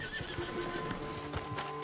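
A horse in Red Dead Redemption 2 gives a short, loud, close neigh that rises and falls over a couple of seconds, with faint hoof clops underneath.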